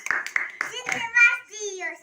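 A few quick hand claps at a child's home birthday party right after the candles are blown out, light and close, mixed with an adult and someone talking.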